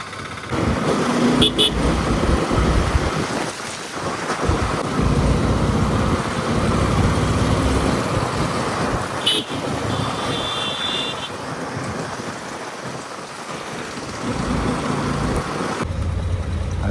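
Busy road traffic heard from inside a moving auto rickshaw during heavy congestion: a steady engine and road rumble with a few short horn toots, close and continuous, with no voices.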